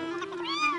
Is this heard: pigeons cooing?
no